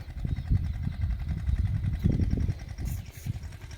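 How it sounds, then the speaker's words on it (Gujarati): A four-wheel tractor driven by children chugs nearby, its engine putting out a low, uneven, pulsing rumble that rises and falls over a few seconds. "જો આવે છે બાળકો ટ્રેક્ટર લઈને."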